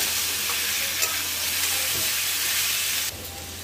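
Ground spice paste and turmeric frying in a pan over a high flame, a loud dense sizzle and hiss close by, with stirring scrapes, easing slightly near the end.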